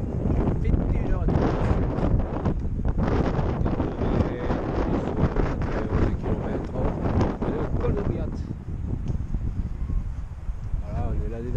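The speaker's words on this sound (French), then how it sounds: "mais aujourd'hui il y a du vent" Strong wind buffets the microphone in rough, rumbling gusts for most of the stretch, easing near the end, with voices speaking under it, at night during a 100-mile trail race in southern France.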